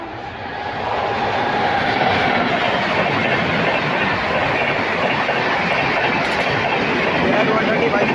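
An express mail train runs by on Indian railway track, a loud, steady rumble of wheels and carriages filling the whole span after a brief quieter start, with no break in the roar.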